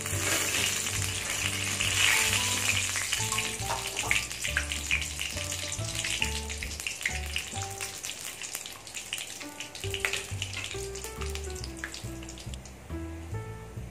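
Tempering spices crackling and popping in hot oil for green peas curry, a continuous close sizzle with sharp spits, while faint background music plays throughout.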